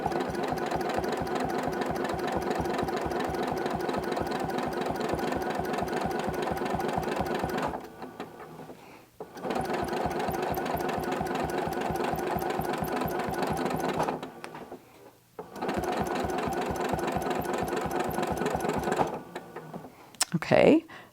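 A sewing machine runs steadily while quilting a curve along a ruler, a fast even needle rhythm in three long bursts separated by short pauses, with light handling noises and a brief clatter near the end.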